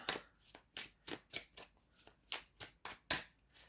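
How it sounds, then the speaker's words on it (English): Cards riffle-shuffled repeatedly in quick bursts, about ten rapid ruffling flutters in a steady rhythm, close and clear with no voices. "of shuffling because there's so many cards"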